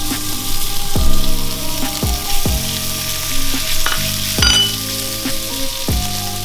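Fresh spare ribs fry in sesame oil and beef fat on medium-high heat, a loud, dense sizzle punctuated by repeated clanking thuds and metallic scrapes, close up and continuous.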